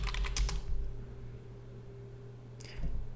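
Quick bursts of keystrokes on a computer keyboard as a command is typed, a cluster of taps at first, then a pause over low electrical hum, then a few more clicks near the end.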